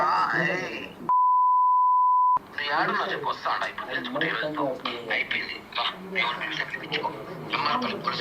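A phone call tone sounds as a single steady electronic beep lasting just over a second, cutting in between stretches of close, continuous conversation.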